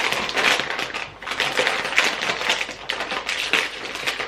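Cardboard multipack of Hawkstone Pils beer being ripped open, a close run of crunching, tearing and crackling card with sharp taps and crinkles over about four seconds.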